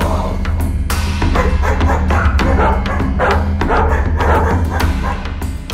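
A big dog barks in a series of deep, rapid woofs over a dense background of story sound effects and music, loud and close throughout.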